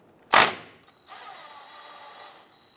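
A ratchet fitted with a 12mm socket turns a brake caliper bolt on a 2008-2013 Nissan Rogue: one sharp mechanical clack, then a steady quiet clicking run of the pawl, close up and with no voices.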